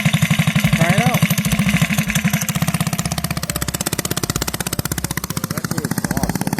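Mini bike engine with a newly fitted exhaust running loud and close, a steady rapid putter with revs rising and easing, voices briefly audible over it.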